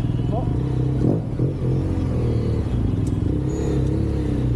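Motorcycles riding along a road in Morocco, a steady engine drone and rumble running throughout with a brief clatter near the middle, close and fairly loud.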